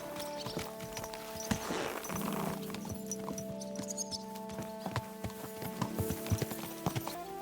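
Horses ridden out at a walk in the medieval game Kingdom Come: Deliverance II, steady hoof clip-clop close by over a low ambient bed with a brief whinny, no talk.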